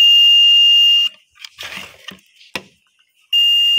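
A multimeter's continuity tester beeps while probing a washing machine pressure switch from an LG top-loading washer: a loud steady tone runs for about a second, stops through a gap of small handling clicks and rustles, then sounds again.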